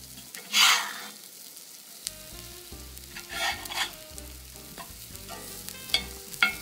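Polish apple placki fry in a pan, crackling and sizzling steadily, with a sharp burst of hissing early on and intermittent louder spatters throughout, no voices.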